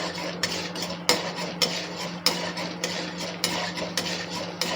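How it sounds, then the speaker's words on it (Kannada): Chana dal tipped into a pan and stirred with a spoon, producing a steady series of close metallic clinks and scrapes against the pan at a fairly even rhythm. "ಕಡಲೆಬೇಳೆ ಹಾಕ್ತಾಯಿದ್ದೀನಿ. 1 ಸ್ಪೂನ್, ದೊಡ್ಡ ಸ್ಪೂನಲ್ಲಿ 1 ಸ್ಪೂನು."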